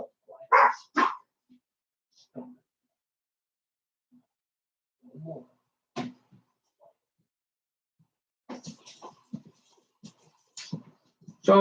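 A pet dog barks in short sharp bursts indoors, a few yips early then scattered barks later, loud and close, with a person speaking at times between them.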